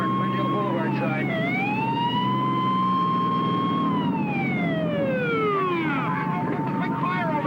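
An ambulance siren wails loud and close near Echo Park on the Glendale Boulevard side, its pitch sweeping slowly up and down over steady traffic rumble.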